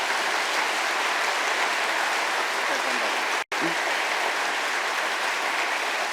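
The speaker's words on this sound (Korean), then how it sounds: "우리 박수 한번 쳐주시죠" Audience applause at a church pastor installation ceremony, steady dense clapping filling the room with a brief cut partway through, loud and continuous without speech.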